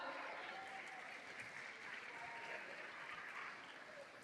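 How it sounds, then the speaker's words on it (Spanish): Steady applause from a festival audience for a karaoke contest jury, a dense wash of clapping that holds evenly for several seconds with a faint crowd murmur underneath. "Fuerte aplauso para el jurado, por favor."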